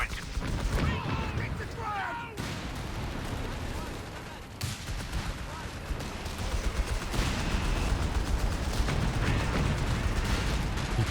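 Panzergrenadier infantry fire their rifles in Company of Heroes 3, a 2v2 match. Steady battlefield gunfire and distant booms crackle on and off throughout, mixed with other combat noise. A voice talks underneath.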